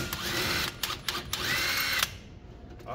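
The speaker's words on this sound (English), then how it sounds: "All we need to do with the impact gun, loosen these bolts" Impact gun loosening strut bolts on a Toyota Etios 1.5 VVT with the wheel removed: loud whirring bursts with short breaks between them, then a pause before a final burst.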